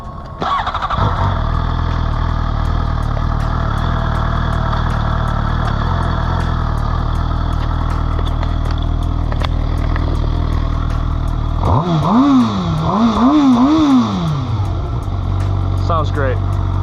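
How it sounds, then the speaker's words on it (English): A 2019 Suzuki GSX-R 750 sportbike fitted with an aftermarket exhaust starts up and idles loudly and close, with a steady throbbing note, then is blipped through several sharp rising and falling revs near the end. "let me show you what the bike sounds like"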